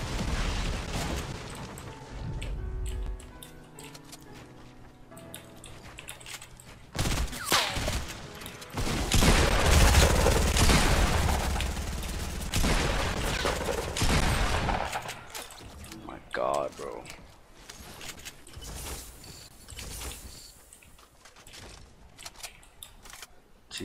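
Bursts of gunfire from the Fortnite video game, loud rattling volleys and shots that come and go over roughly twenty seconds, with people talking over the action.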